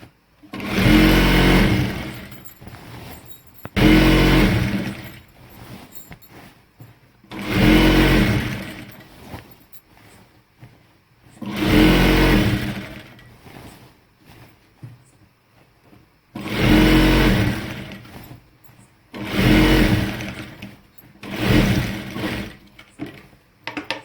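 Salwar fabric runs through a sewing machine in six separate stitching bursts, each loud, whirring and about a second or two long, separated by short pauses with faint handling sounds.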